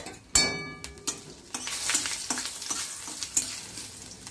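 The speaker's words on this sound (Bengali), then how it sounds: "মেথিটা আমার ভাজা হয়ে গেছে, শুকনো লঙ্কাটাও ভাজা হয়ে গেছে।" Fenugreek seeds and dried red chillies fry in hot oil, a close sizzle punctuated by sharp metal clinks and scraping stirs of a spoon against the pan, with no voices.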